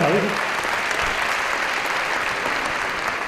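An audience at a La Rioja folklore gala applauds a comedy monologue with dense, even clapping at full strength, sustained from start to finish with faint crowd murmur underneath.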